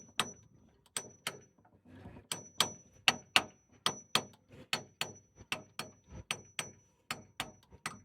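A hammer taps a rudder bushing into place on an Ovni 25 sailboat, roughly twenty sharp, close metallic blows landing in a steady rhythm about two or three per second, with no voices.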